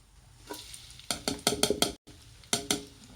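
Squash and alugbati leaves sautéing in a pan, several bursts of sizzling and stirring clatter in quick succession, close and fairly quiet, with no talk.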